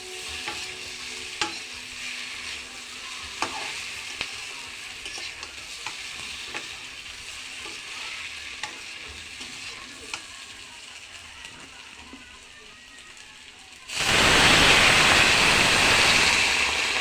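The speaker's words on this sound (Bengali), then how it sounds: "এবার দিয়ে দেবো এর মধ্যে জল" Sautéed potato pieces fry quietly in a pan with small clinks of stirring. Then water is poured in and a sudden loud, rushing sizzle takes over, staying strong to the end.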